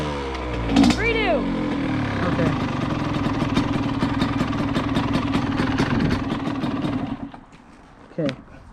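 A dirt bike engine idles steadily nearby with a rough, pulsing rumble. A voice speaks over it near the start, the engine cuts out around seven seconds, and a short rev or sputter follows.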